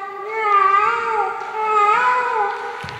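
A performer's voice imitates a small kitten crying at a college stage show, a sustained, wavering, high-pitched mewling wail that rises and dips for about three seconds, close and fairly loud.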